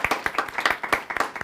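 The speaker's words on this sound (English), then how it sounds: "let's give her another round of applause" A small live-stream audience claps for a departing guest named Emma in Blacksburg, a short burst of sharp, uneven hand claps close by, fairly loud and steady throughout.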